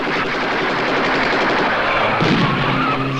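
Loud, continuous burst of rapid gunfire aimed ahead of a crowd in a 1982 film, a dense rattle of shots lasting the whole moment.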